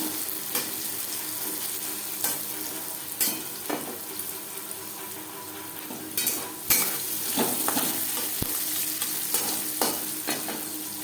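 Carrot pieces and jackfruit seeds fry in a pan for a vegetarian pumpkin-greens dish, with a steady sizzle under intermittent spatula scrapes and clinks. Each stir comes across clearly against a moderate background hiss, with no talking.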